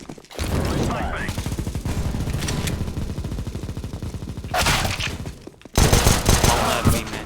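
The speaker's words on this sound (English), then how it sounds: "Throwing flashbang." Gunfire bursts and rapid weapon fire fill a competitive shooter match on a playtest map, with a flashbang thrown amid the fighting; sustained shooting runs throughout, then a louder bright burst and a short gap before more intense firing.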